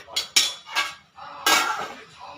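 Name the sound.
mixing mutton biryani in a pot and covering it with a lid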